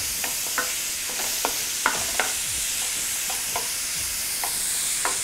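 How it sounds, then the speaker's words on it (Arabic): Chopped onion sautéing in a pan for Iraqi Mosul-style kibbeh, a steady close sizzle broken by repeated sharp scrapes and clicks of a utensil stirring against the pan, with no one talking. "We'll saute until soft and golden."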